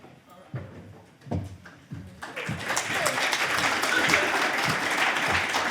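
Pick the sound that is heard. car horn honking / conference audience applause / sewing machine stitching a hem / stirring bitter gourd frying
conference audience applause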